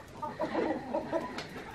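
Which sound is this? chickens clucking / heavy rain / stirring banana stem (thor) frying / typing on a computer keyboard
chickens clucking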